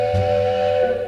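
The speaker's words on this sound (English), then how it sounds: "Bert blew his whistle loudly." A loud steam locomotive whistle sounding a sustained, steady shrill tone for about a second, close and alone, with a faint low rumble beneath.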